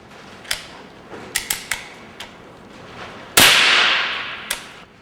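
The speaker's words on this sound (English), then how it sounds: "I'll just dry fire that as you can with these" Crosman 1377 American Classic air pistol being handled and dry fired: a series of sharp mechanical clicks and snaps, then a louder hissing burst that tails off over about a second, followed by one more click.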